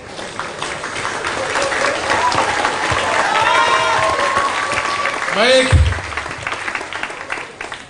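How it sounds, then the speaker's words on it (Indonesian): Audience applause honoring two professors at a talk at an Indonesian business institute, a dense steady roar of clapping throughout, with a voice speaking over it and a brief louder swell near the end. "mari kita tepuk tangan meriah buat kedua profesor kita yang luar biasa"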